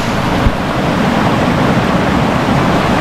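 A river in Portland, Jamaica rushes steadily in a dense, continuous roar heard up close, with no voices and no break across the span.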